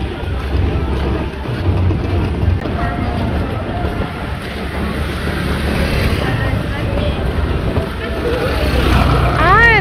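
Strong wind buffets the microphone on a street in South Korea, a loud, continuous low rumble and roar that gusts and swells toward the end.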